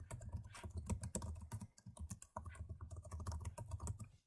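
Rapid typing on a computer keyboard while entering a username, a close, continuous patter of keystrokes with a brief pause midway before the clicking resumes.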